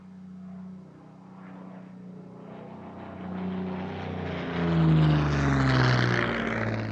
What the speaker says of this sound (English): The aircraft we see here is Paul Beaucham's Yak 9